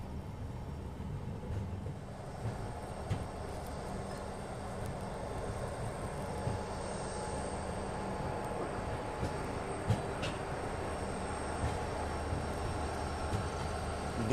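A diesel locomotive rumbles at night at Guntakal station, where an electric loco shed and a line of parked Alco locomotives stand nearby. The low, steady engine drone fills the whole stretch and carries on without pause, with no talking.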